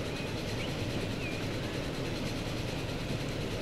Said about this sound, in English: See freight train in the distance.